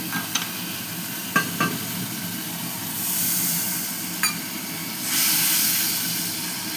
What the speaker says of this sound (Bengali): তেল ছাড়া না ছাড়া পর্যন্ত আমি এটাকে মশলাটাকে কষিয়ে দিতে হবে